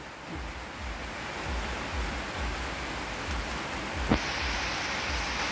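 Steady rain hisses down continuously, with soft low patters underneath and a brief sharp knock near the end.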